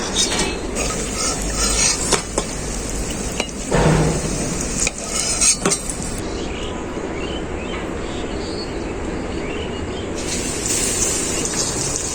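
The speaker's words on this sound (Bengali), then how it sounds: "বেগুনিগুলো আমার খুব ভালো করে ভাজা হয়ে গেছে এখন তুলে নেব একদম মজমজে করে ভেজা হয়ে গেছে" Eggplant fritters (beguni) sizzle in hot oil, a close, steady frying hiss mixed with clinks and scrapes of a utensil against the pan as the crisp fritters are lifted out.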